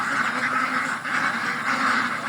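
A flock of Peking ducks on a farm quacking noisily and continuously before feeding, dense overlapping calls nearby.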